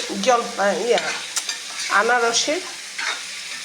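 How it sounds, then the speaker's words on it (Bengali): Dry chillies and five-spice seeds fry in hot oil with a steady, close sizzle and stirring, while a voice-like tonal sound rises over it at intervals. "তেলের মধ্যে শুকনো মরিচ ছেড়ে দিয়ে, পাঁচফোড়ন ছেড়ে দিয়ে"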